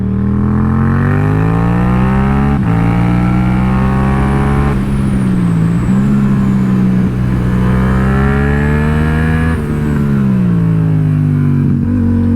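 A loud motorcycle engine revs and accelerates up through several gears, each pull rising in pitch before a brief drop at the shift.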